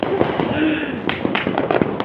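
New Year's fireworks cracking and popping in a rapid string of sharp bangs, with a voice talking over the noisy outdoor celebration.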